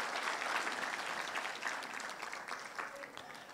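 A church congregation claps together in a full, steady burst of applause that holds throughout and tapers slightly at the end, with a faint murmur of voices beneath.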